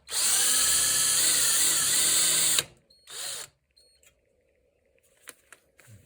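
A loud electric drill runs steadily for over two seconds during a shovel handle repair, then stops; a short second burst follows, then faint clicks and handling noises.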